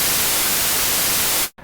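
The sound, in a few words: white noise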